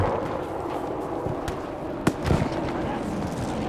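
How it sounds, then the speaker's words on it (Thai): A sharp explosion from the video game Battlefield V bursts out, followed by a rumbling blast, over a constant wash of noise. "ระเบิดมา"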